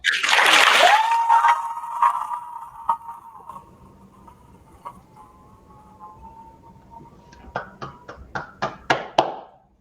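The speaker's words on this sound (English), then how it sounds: "Give him a round of applause." Applause for James White, named 2023 National Rock Star Custodian, bursts loudly at a school ceremony and fades within two seconds under a steady ringing tone, followed by scattered taps and a few sharp claps near the end.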